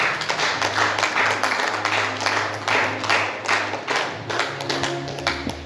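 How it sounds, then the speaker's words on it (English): Congregation clapping at a church thanksgiving service, a dense, steady patter of many hands ringing through the hall for several seconds, with faint organ or keyboard tones sustained underneath. "If that clapping is for me, I accept."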